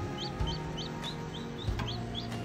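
A newly hatched chick, just out of a shell it was stuck in, peeps repeatedly in quick rising chirps, close and clear over a low background rumble.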